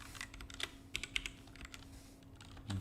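Typing code on a computer keyboard, a quick run of light clicking keystrokes with a few sharper taps, close and fairly quiet with no talk.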